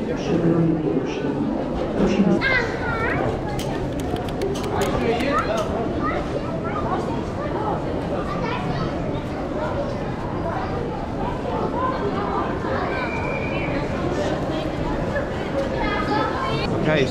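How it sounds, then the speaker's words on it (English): Inside busy Krakow train station, a crowd chatters under a low rumble of trains, with occasional squeals, clanks and an announcement-like tone echoing through the hall. "we are in Krakow train station"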